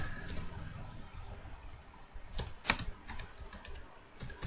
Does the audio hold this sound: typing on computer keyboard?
yes